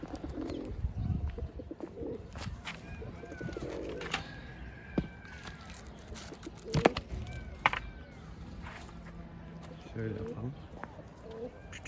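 Low, soft coos of a hungry young Mardin smoke-colored tumbler pigeon repeat in short phrases up close, mixed with talking, a few sharp knocks and faint outdoor noise.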